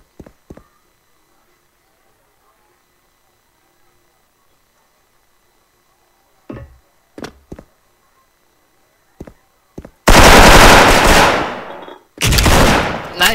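Game gunfire: a few brief sharp shots spread over the first ten seconds, then a dense loud burst of firing near the end, with quiet gaps between.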